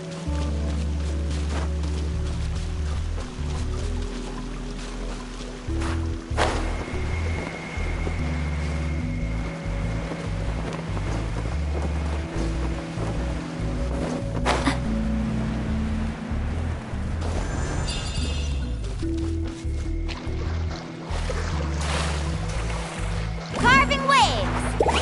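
A boat carves through ocean waves in Genshin Impact, with a steady rushing, sloshing wash of water running throughout, under game music and effects and occasional voices.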